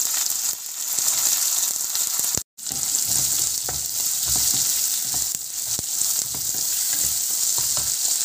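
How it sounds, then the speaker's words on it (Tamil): Ginger, garlic and curry leaves fry in hot oil after cumin and fenugreek have popped, giving a steady close sizzle with stirring scrapes and a brief silent gap partway through. "ஜீரகம் வெந்தயம் வெடித்ததுக்கப்புறமா நம்ம சின்ன சின்னதாக நறுக்கி வச்சுருக்கிற இஞ்சி, அப்புறமா வந்து பூண்டு, நெக்ஸ்ட்டு வந்து கருவேப்பிலை எல்லாம் சேர்த்து போட்டு வதக்கிக்கலாம்"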